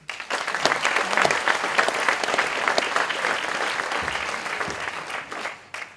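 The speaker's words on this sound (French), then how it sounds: "Et ça mérite beaucoup d'être applaudi." An audience at a political meeting applauds a speaker's tribute, a dense sustained burst of clapping that swells quickly and fades near the end.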